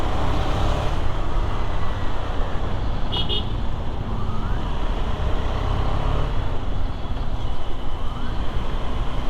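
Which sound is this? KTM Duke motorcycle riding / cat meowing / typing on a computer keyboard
KTM Duke motorcycle riding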